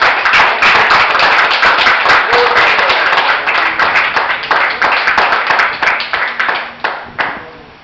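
A church congregation claps loudly and steadily at a Christian sermon, dense hand claps that thin into scattered, sharper individual claps toward the end.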